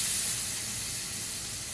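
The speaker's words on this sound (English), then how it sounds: "you just let that bad boy sizzle up for 2 minutes on each side" A ribeye steak sizzles in a cast iron skillet with browning garlic, a steady close hiss with a sharp crackle that runs evenly throughout without any pause.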